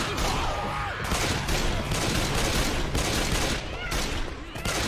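Dense gunfire from a first-person shooter game played on a cloud-streamed PC, continuous rapid shots over a loud, busy game soundscape.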